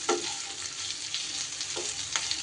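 Onions sizzle in hot oil in a pan for a Bengali chicken kala bhuna, a steady close frying hiss broken by a few scraping stirs of a spatula.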